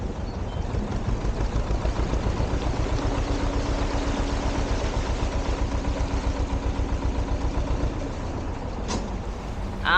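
A canal boat engine chugs steadily at idle, a low rhythmic thrum close by with no talking, continuing evenly throughout.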